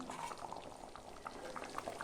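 A pot of chicken curry with coconut bubbles and simmers softly, with small irregular pops of boiling liquid throughout, quiet and close.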